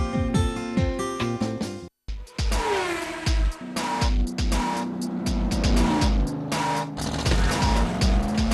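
Motorsport racing cars rev hard and shift through gears while tyres squeal, loud and close, with engine notes rising and falling in rapid succession over a brief cut.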